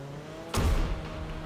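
In the racing video game Blur, a car engine hums steadily, then surges with a sudden whooshing roar about halfway through and keeps droning loudly afterward.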